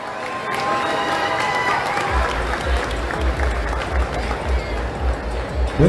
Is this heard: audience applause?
yes